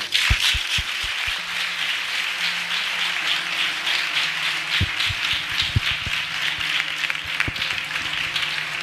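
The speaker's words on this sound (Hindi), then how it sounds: "आइए हम अपने प्रभु के लिए एक अच्छी ताली बजाएंगे" A church congregation claps for the Lord in a dense, steady wash of applause, with a few sharp, loud claps near the start and throughout.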